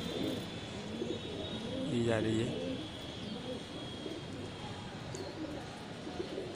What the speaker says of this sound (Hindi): ये कबूतर दिख रहा है